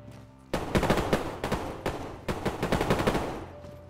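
Sudden bursts of rapid gunfire erupt after a brief quiet in the video game DayZ, several quick automatic volleys in a row, loud and close, with a game-like tone.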